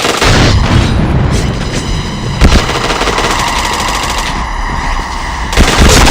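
Rapid, loud automatic gunfire fills a first-person shooter game, with sustained bursts of rifle fire and occasional sharper reports running without pause.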